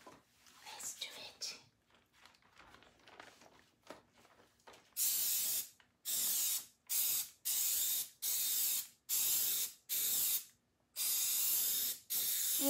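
A spray can used for decoupage hisses in a string of loud, sharp-edged bursts of about a second each, separated by brief pauses, after quieter handling noises and soft talk at the start.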